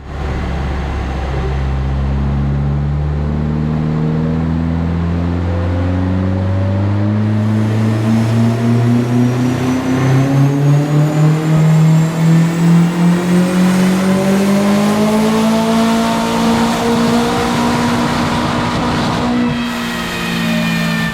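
A car engine revs hard through a full power run on a dyno after a clutch adjustment, with loud rising harmonics that climb steadily, then level off and flatline near the top without a rev limiter cutting in.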